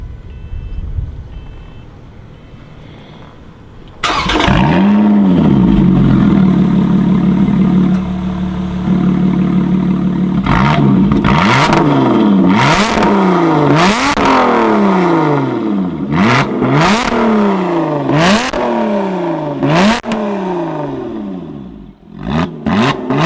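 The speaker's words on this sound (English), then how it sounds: "I'm gonna start it, open the valves and give you a few revs because the engine's warm." A warm Lotus sports car engine fires up with exhaust valves open and revs repeatedly, sharp rising and falling bursts over a loud idle, close to the microphone.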